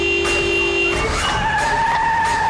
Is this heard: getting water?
no